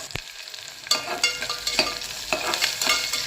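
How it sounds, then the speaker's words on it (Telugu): A large onion frying in a pan toward golden brown, a crackling sizzle broken by several bursts of stirring and scraping, close and clear with no voices. "ఒక పెద్ద సైజు ఆనియన్ అండి. ఇది గోల్డెన్ బ్రౌన్ కలర్లో వచ్చేంత వరకు ఫ్రై చేసుకుందాము."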